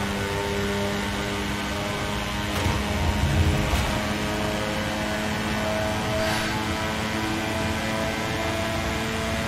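Steady, close whirring hum of a drone flying in the video game Watch Dogs 2, a continuous droning buzz throughout with slight swells in the middle and no talk.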